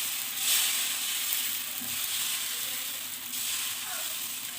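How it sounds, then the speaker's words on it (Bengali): Lace pitha batter hisses in hot oil in a wok, a steady close bright sizzle that swells briefly near the start and then holds evenly without talk. "এই যে এখন আমি কড়াইয়ে বসিয়েছি, তেল গরম করছি। এখন আমি পিঠাটা দিয়ে দিচ্ছি।"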